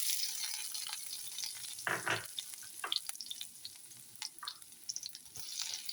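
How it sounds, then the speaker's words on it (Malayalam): Ginger, green chili and garlic frying in hot oil, a steady sizzle with bursts of louder crackling and spitting, interrupted by stirring clatter, close and without talk. "നമുക്ക് വറുത്ത് വരാനായിട്ടുള്ളത് നമ്മളെ ഇഞ്ചി, പച്ചമുളക്, വെളുത്തുള്ളി."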